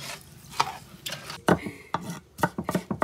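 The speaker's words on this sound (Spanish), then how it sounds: "picando el pimiento para luego picar la cebolla" Quick, uneven knife chops on a board as a bell pepper is cut, sharp taps clustering in bursts close up.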